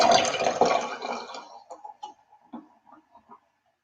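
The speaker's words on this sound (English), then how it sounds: "I should pour this beer at least." Pabst Blue Ribbon Hard Coffee is poured from a can into a glass, a close splashing gush that fades into soft fizzing, drips and small pops.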